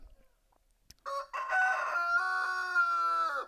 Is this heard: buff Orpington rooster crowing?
yes